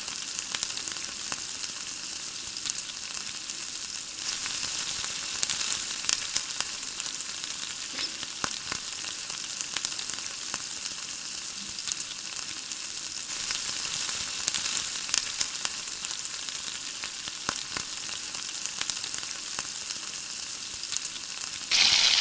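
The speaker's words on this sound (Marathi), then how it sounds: "कांदा गोल्डन ब्राऊन कलर होईपर्यंत चांगला भाजून घ्यायचा." Onion frying in a pan until golden brown for a soya chunk dry curry, a steady close sizzle running throughout with no talking.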